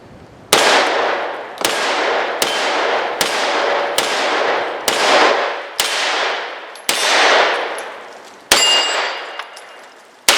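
CZ Scorpion EVO 3 S1 firing cast lead powder-coated ammunition, about ten loud single shots at a steady pace, each ending in a ringing metallic clang as it strikes steel targets.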